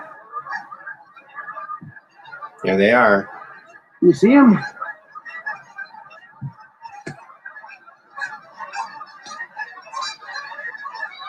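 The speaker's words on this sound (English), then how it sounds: "These guys are loud. Gooses. Geese" Geese honk loudly in two strong bursts close by, with softer calls from a flock continuing in the background while a person speaks briefly.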